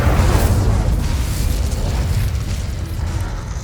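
Incendio fire spell cast in the Hogwarts Legacy video game: a loud, continuous roaring blast of fiery noise with rumbling low end, sustained steadily throughout.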